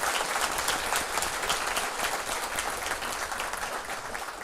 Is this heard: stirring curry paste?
no